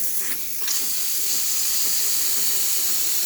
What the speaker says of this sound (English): once it does, we're gonna see lots of steam going out through here